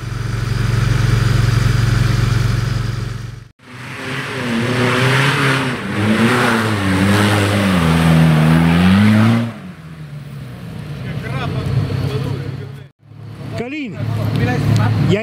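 An off-road car with newly replaced injectors revs hard on a rocky trail in Seini, its loud engine droning and rising in pitch over several sustained bursts, separated by brief cutoffs, close and dominant.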